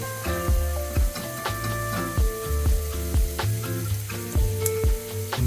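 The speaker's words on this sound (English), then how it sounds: "So we throw our onion into the pan." Chopped onion frying in a pan for lettuce wraps, a steady close sizzle with repeated rhythmic scraping and knocking strokes from stirring, no voices.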